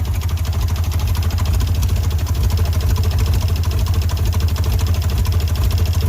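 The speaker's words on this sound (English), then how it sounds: "as you can see, she's not running very smooth" An old Ford Bronco II engine idles roughly and steadily up close, a dense low rumble holding an even level throughout with no voices over it.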